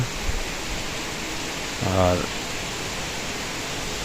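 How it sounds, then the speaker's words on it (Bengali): Heavy early-morning rain heard from a balcony, a dense steady wash of noise with no gaps, and a brief spoken word partway through. "ফজর রক্তে ওঠার পরে দেখি বাইরে প্রচুর বৃষ্টি বন্ধুরা।"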